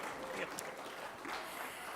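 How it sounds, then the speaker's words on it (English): An audience at a press meet breaks into brief applause, a steady wash of clapping from many hands. "Let's hear a round of applause for that."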